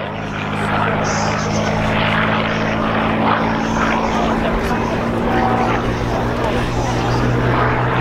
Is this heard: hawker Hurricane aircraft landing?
yes